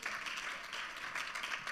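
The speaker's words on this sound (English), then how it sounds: "Please have some applause for Leo." Audience applause for a guest speaker named Leo at an event on banning nuclear weapons, a steady, dense wash of clapping at moderate distance that holds evenly for the short stretch without any voices.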